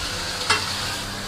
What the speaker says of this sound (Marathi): आता इकडे ही फोडणी दिलेली आहे.